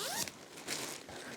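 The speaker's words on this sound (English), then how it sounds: "One thing I love about this is that it's a zipper one." A zipper on a baby's fleece suit is pulled in a few quick close-up zips, short rasping strokes with brief pauses between them.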